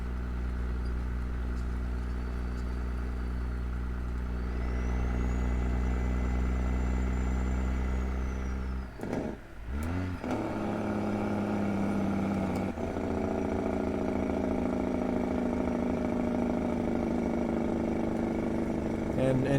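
A heavy truck engine rumbles steadily with a deep droning idle, briefly dipping and revving midway before settling back into a low, continuous hum.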